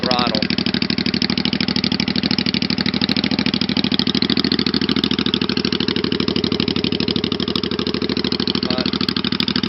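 A Honda Shadow VT500 bobber motorcycle with freshly welded exhaust pipes idling on choke, a loud, close, rapid and steady exhaust putter that holds an even rhythm throughout with a faint higher rattle at the start and end.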